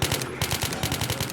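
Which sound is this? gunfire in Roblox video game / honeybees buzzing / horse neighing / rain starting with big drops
gunfire in Roblox video game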